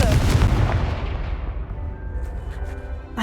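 A Confringo fire-blast spell cast in Hogwarts Legacy at night goes off as a loud, broad booming burst up front that rolls and rumbles away over a few seconds, with faint ambient tones left trailing at the end.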